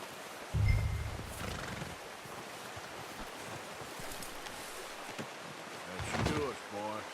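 A horse in Red Dead Redemption 2 gives a sharp, close whinny over game ambience of lapping water and hoofbeats, with someone speaking briefly before another snort or neigh near the end.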